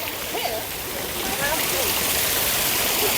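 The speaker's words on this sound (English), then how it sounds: "The sound of running water." Steady rushing water, like a stream or small cascade, fills the scene at a constant level, with a faint voice briefly audible underneath.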